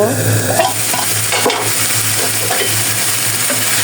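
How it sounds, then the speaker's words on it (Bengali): Small pieces of chicken fry in a pan on a stovetop, a steady loud sizzle running throughout with scraping stirs and spatula knocks. No one speaks. "পাঁচ মিনিটের মতো ভেজে নিব"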